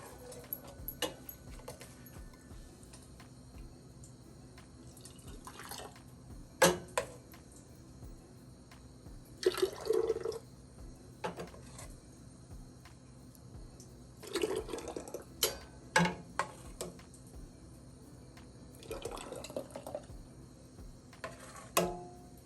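Homemade tomato sauce pours and splashes into a glass mason jar in several separate bursts, with quiet gaps of handling and small clinks between pours.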